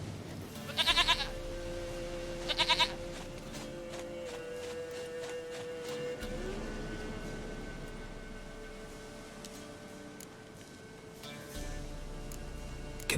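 A goat in the video game The Witcher 3 gives two short bleats near the start, over a steady bed of game music and ambient tones.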